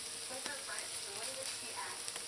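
Ground meat and onions sizzle in a pan for lasagna meat sauce, a soft, steady frying hiss with light stirring scrapes and faint talk.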